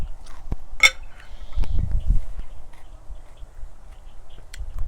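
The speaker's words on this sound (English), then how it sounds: "Ooh, you hear that crunch?" A single crisp crunch as someone bites into an Early Jalapeño x Primo hybrid pepper, close and brief, followed by a few softer chewing crunches in a quiet room.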